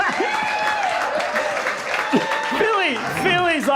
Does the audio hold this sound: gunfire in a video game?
no